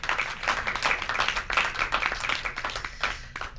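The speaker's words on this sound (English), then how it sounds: "So, round of applause and welcome, Michael" Audience applause welcoming a speaker onto a stage, a dense wash of many hands clapping continuously at moderate volume and tapering slightly toward the end.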